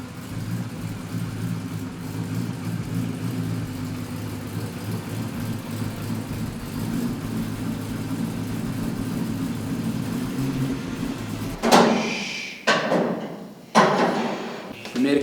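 A Chevy engine idles and rumbles steadily for a while as the car pulls into a shop, then a few sharp thumps and revs break in near the end.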